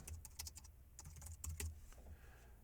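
Someone types a byline into a database application on a computer keyboard: a quick, uneven run of close, crisp key clicks that thins out toward the end, with no voices.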